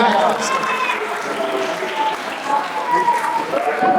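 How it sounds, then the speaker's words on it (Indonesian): Audience applause at a public Quran and classical Islamic text recitation exam at an Indonesian Islamic school: steady, dense clapping fills the whole stretch, with voices mixed into the crowd noise. "Tepuk tangan semuanya."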